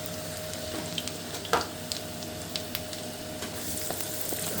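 Ginger and garlic sizzle steadily in hot oil on a griddle, a close continuous crackle with occasional spatters and light stirring clicks.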